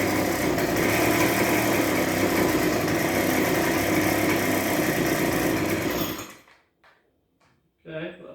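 A backpack leaf blower's small two-stroke engine roars loud and close after a repair attempt on a unit that wouldn't start, running steadily for several seconds before sputtering out and dying, followed by quiet and a brief rattle.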